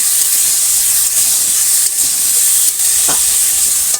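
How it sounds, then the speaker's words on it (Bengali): Cauliflower pieces frying in hot oil, a loud, continuous hissing sizzle heard close, with faint scraping from stirring and no voices. "তেলের পরে ফুলকপিটা দিয়ে দিয়েছি ভেজে নেব"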